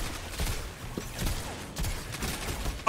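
Gunfire in the sci-fi shooter Destiny during a Trials match, scattered bursts and shots at mid distance with no speech over them.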